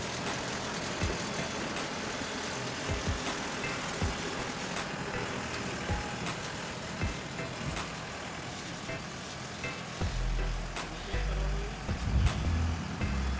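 A GAM Ruilong combine harvester for paddy cutting, with a four-stroke engine, runs with a steady loud rumbling drone, mechanical clanks and some heavier thumps toward the end, with faint voices in the background.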